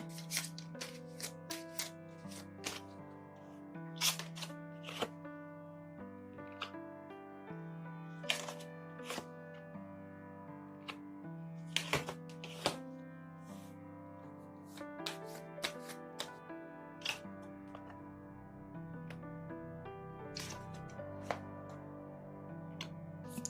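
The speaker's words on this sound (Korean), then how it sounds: "카드 뽑아보겠습니다" Tarot cards shuffled and drawn at a reading, a dense run of close, crisp card flicks, snaps and slides that keeps going with brief pauses, with no talk.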